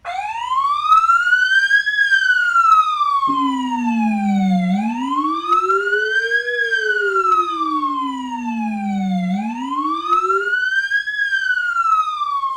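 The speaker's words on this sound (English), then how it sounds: "I'll hit it first, just siren only, and then I'll hit the hammer along with the siren." A loud vehicle siren wails up and down in long sweeps; a lower, growling horn tone joins the wail and rises and falls with it.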